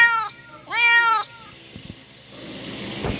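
A cat meows twice up close, the second call longer and louder, followed by faint bumps and shuffling.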